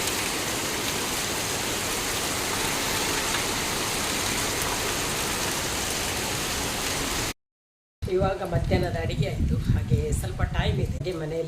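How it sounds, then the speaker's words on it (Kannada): Heavy rain pours down in a steady, dense roar for several seconds, then cuts off briefly before voices talk over a rougher background. "ಇವಾಗ ಚೆನ್ನಾಗಿ ಮಳೆ ಬರ್ತಾ ಇದೆ"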